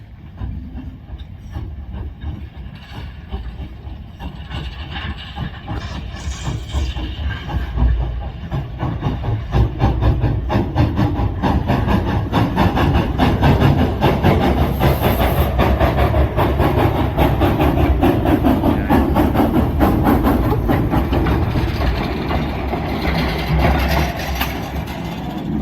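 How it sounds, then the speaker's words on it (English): An old steel mill engine on display at the Youngstown Steel Heritage Museum in Ohio runs with a continuous rumbling, hissing chug that builds gradually and holds loud and close, with no voices. "This looks like an average train, but it's actually an old steel mill engine on display at the Youngstown Steel Heritage Museum in"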